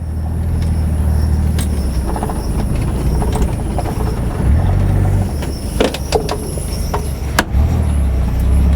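A 1977 car's six-cylinder engine idles with a steady, low rumble continuously, close by, with a few light clicks and taps over the top.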